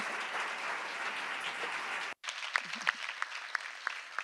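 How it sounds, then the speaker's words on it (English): Applause from a conference audience at the closing session of Empodera Live 2019, a dense steady wash of clapping that cuts off abruptly, followed by scattered single claps and a few voices. "you, the audience and the speakers, deserve an applause"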